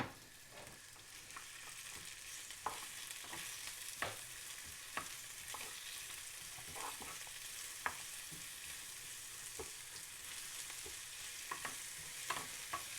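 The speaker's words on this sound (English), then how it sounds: "let that onion brown down a little bit" Onions and garlic frying in a pan for a vegan beefsteak mushroom recipe: a steady, fairly quiet sizzle with scattered pops and light stirring taps throughout.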